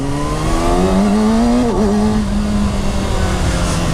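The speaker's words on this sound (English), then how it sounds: "hop on the bike and just ride around for a bit" A 2019 Kawasaki Ninja 636 sport bike ridden through a city centre, its engine loud and close with a steady droning tone that dips and rises briefly mid-ride, over constant wind and road rush.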